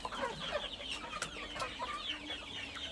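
A flock of about fifty desi laying hens clucks softly while feeding, with overlapping short calls and pecking clicks at close range, quiet and continuous, with no talking.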